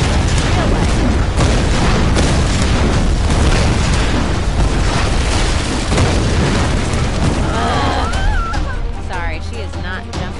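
Rumbling explosions and fiery blasts in the Tomb Raider Definitive Edition video game, dense and loud throughout, with game voices and scattered cries layered over the booming din.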